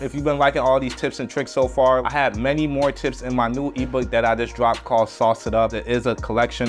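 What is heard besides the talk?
No everyday noises stand out.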